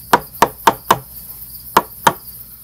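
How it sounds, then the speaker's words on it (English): A wooden wedge is driven into a mortise and tenon joint with six sharp, close knocks, four in quick succession, a short pause, then two more, each with a hard woody ring. "Make a little wedge, drive it in there."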